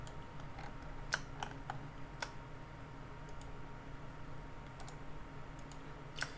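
Sharp mouse clicks sound while working in CAD software, a handful of isolated taps spaced irregularly over a quiet, steady background hum.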